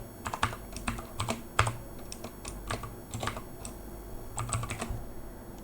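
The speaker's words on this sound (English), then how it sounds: "So I'll type my email address now." An email address and license key are typed on a computer keyboard in irregular close-up clicks and short runs of keystrokes, with no talk.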